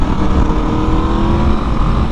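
A 2021 Aprilia RSV4 Factory sports motorcycle's engine hums steadily and loudly throughout while being ridden, a dense, continuous drone with wind rush and no pauses.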